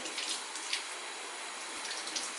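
A sterilised mash tool used for strawberry and watermelon wine is rinsed under a tap, producing a continuous close hiss of running water with small splashy surges, alone without voices.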